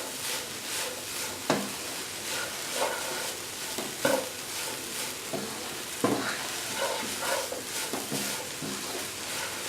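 Spinach and ground coconut paste stirred and sautéed in a pan for cheera thoran, a steady sizzle with repeated scraping strokes of a spoon against the pan, close and continuous with no talking.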